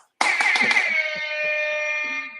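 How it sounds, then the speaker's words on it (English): A loud, sustained electronic buzzer blares for about two seconds with a harsh, steady tone, starting abruptly and holding before cutting off. "It's a buzzer."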